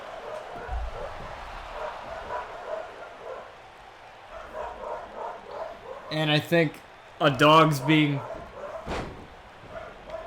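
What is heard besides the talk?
dog barking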